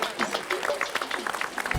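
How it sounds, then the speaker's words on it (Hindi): An audience gives scattered hand clapping that comes through as a quick run of soft, fairly close claps, with a voice speaking over it. "अंजलि के लिए तो मैं खुद तालियां बजाता हूँ भाई"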